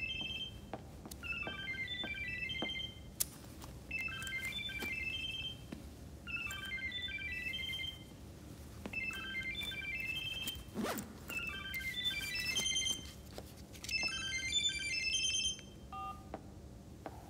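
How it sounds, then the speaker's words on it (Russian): A mobile phone ringtone plays a repeating electronic melody in short phrases, ringing on for about fifteen seconds at moderate volume indoors, with a brief rustle partway through. "Я спрашиваю, кто не выключил телефон?"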